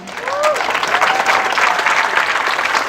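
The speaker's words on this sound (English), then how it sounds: "Could you give him a round of applause?" An audience at a refugee and immigrant walk event gives Mayor Tom Potter a loud, sustained round of applause, dense clapping swelling quickly and holding steady, with a faint voice briefly at the start.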